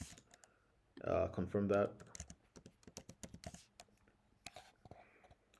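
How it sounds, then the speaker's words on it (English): Quick bursts of key clicks on a computer keyboard as a password is entered, close and fairly quiet, with a person talking briefly amid the typing. "I'm just gonna type a password."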